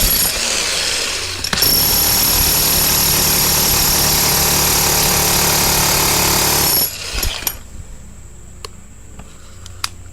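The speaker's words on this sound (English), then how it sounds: "Drill test." A Hitachi hammer drill pounds continuously under load for about seven seconds, loud and close with a dense rattling hammer rhythm, then cuts off abruptly, leaving faint clicks and handling noise.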